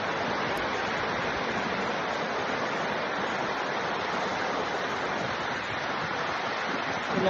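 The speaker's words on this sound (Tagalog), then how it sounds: "Ang tingog sa sapa mo yung makapa-relax na ako." A stream flows in a steady, even rush of water that stays constant throughout, fairly soft, with no voices.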